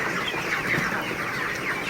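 About 620 broiler chickens in a poultry shed, 28 days old, make a dense continuous chorus of clucking and chirping that fills the space at an even loudness, with no talking.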